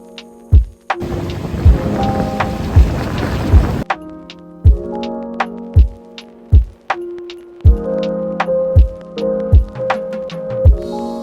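Monsoon rain falls at a Goa beach, starting as a dense, heavy hiss for a few seconds, then thinning to lighter rain with sharp, repeated drips and taps close by.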